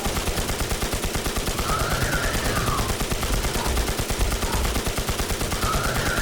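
Sustained rapid gunfire from the zombie shooter Infestation The NewZ as players shoot zombies and bosses, a dense, loud, continuous automatic rattle with no talk.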